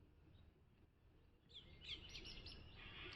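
Birds chirp faintly against a quiet, low background hum. The scattered high calls begin about halfway through and continue in brief bursts until the end.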